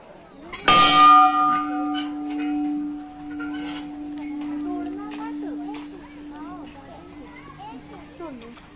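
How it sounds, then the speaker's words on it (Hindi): A single loud strike of a temple bell at Shri Shankar Math temple, a hill station in Rajasthan, rings out and hums for several seconds as it slowly fades, while voices chatter nearby. "और ये पहला घंटा"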